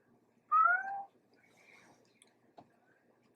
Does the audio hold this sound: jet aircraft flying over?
no